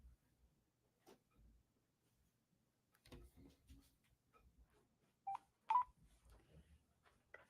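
A telephone being dialed to call a direct line, with a faint, sparse series of short button tones and clicks. A few sharper tones stand out near the end.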